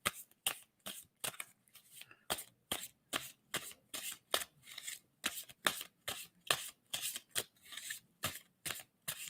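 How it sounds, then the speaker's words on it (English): A deck of tarot cards is shuffled over and over in a quiet room, crisp riffling bursts repeating in a steady rhythm, close and fairly soft. "tell me when to stop shuffling"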